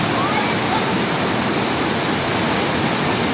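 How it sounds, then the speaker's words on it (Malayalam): A waterfall crashes over rocks at Kalarandi, a loud, constant roar of rushing water filling the whole scene. "പാറ പുറത്ത് കുറേ വെള്ളം ചാട്ടുന്ന സ്ഥലമാണല്ലോ"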